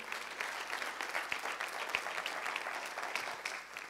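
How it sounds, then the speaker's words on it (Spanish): A church congregation applauds during a Spanish-language service, steady dense clapping from many hands at a moderate distance, continuous for the whole stretch with no talk over it. "Denle un aplauso al Señor."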